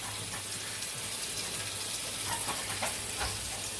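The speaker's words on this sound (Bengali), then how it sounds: "পোলাওয়ের পানিটাও ফুটে গেছে, এখন চাল দিয়ে দিচ্ছি" Soaked rice goes into a pot of boiling water for pulao, giving a steady hissing, bubbling wash of sound with faint clinks over it and no talking.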